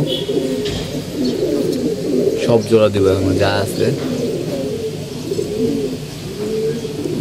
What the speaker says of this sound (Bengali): যা আছে সবগুলো মাদি কবুতর